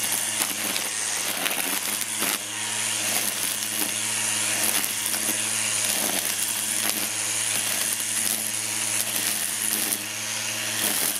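A Black & Decker string trimmer runs steadily, its motor giving a constant buzzing whine with slight wavers as it works through weeds.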